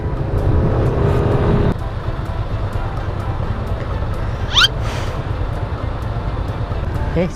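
A BMW X1 passes on the road, a loud broad engine and tyre roar that drops away after a couple of seconds, leaving steady traffic and wind noise.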